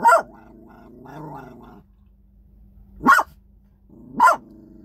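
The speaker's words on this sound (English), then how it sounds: "barking again at some people walking by my semi-truck" A dog barks sharply three times at people walking by a semi-truck, close by, with a low growl rumbling between the first and second barks.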